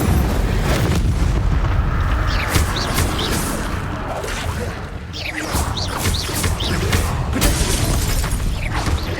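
Confringo spell explosions in the Hogwarts Legacy video game: a loud, sustained barrage of crashing blasts and booming rumble, with several sharp impacts layered over one another.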